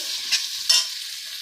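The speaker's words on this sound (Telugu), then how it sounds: "ఆనియన్స్ బాగా వేగాలి." Onions fry in a pan for drumstick-leaf rice while a spoon stirs them, giving two short scraping brushes over a faint, soft sizzle, with nobody speaking.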